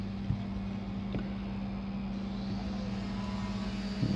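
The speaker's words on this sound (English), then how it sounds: "So I'm going to turn the pump back on here." A pump runs during quarter glass removal on a Honda CR-V, giving a steady, even drone with a low hum throughout and a couple of faint knocks near the start and end.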